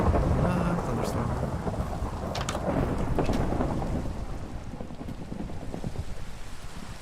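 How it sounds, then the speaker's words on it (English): Thunderstorm in Minecraft: dense, steady rainfall with low rolling thunder and gusty noise, loud and continuous throughout, with no one talking. "Thunderstorm."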